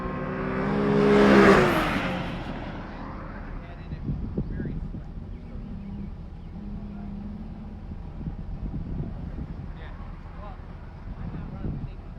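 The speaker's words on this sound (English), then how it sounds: "Here comes Brownie in the Camry." A Camry race car comes by on track at a Gingerman morning session, a loud engine swell rising and passing close in the first seconds, then fading into wind noise with a quieter engine hum in the distance.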